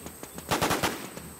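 Automatic gunfire in the online zombie survival shooter WarZ, a rapid burst of several sharp, loud shots after a few lighter pops, with no talk over it.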